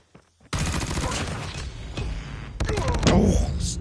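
Rapid automatic gunfire in Call of Duty Mobile during a hardpoint match, loud sustained bursts of shots with a short pause then more firing, with a voice talking over it.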